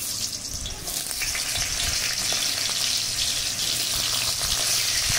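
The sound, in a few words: chopped mango frying in pointed gourd frying oil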